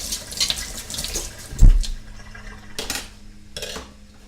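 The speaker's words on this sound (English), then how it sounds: "I'm going to rinse those utensils off right away." Tap water runs steadily into a kitchen sink while utensils are rinsed, with a louder clatter of metal near the middle and a couple of brief splashes toward the end.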